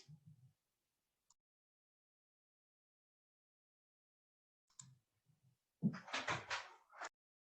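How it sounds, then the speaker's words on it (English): An indoor door is shut at close range, giving a brief knock-like thud followed by a louder clatter and bang, with a few faint handling noises before it; no one speaks. "That you can close the door."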